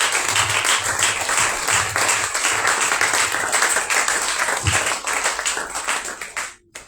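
Sustained applause and clapping from an audience at a commemorative religious conference acclaiming Jesus Christ, a dense steady roar of hands lasting several seconds before cutting off abruptly.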